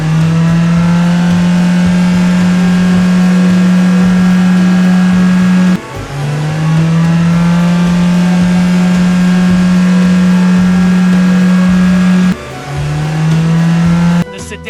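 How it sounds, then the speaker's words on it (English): Toy cars, a white sports car among them, whir up a slope in a kids' toy racing competition, a steady loud motor drone running in long stretches with two brief breaks, while a voice talks over it. "The white sports car starts climbing the slope first."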